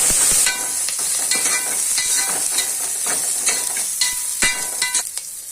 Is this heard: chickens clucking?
no